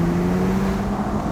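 Porsche 911 Turbo S convertible accelerating hard, a loud steady engine drone with a strong low hum running throughout and no speech.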